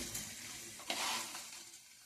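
Cumin and tempering seeds, with dried red chillies, mustard seeds and dals, sizzle in hot oil for a carrot fry. The faint, continuous hiss swells briefly once, with no voices.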